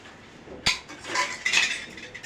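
Dishes and cutlery being washed at a home sink, with a sharp clink followed by bursts of scraping and splashing water, close and moderately loud, with no talk.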